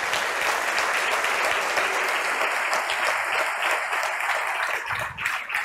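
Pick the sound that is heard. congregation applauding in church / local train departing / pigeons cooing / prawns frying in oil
congregation applauding in church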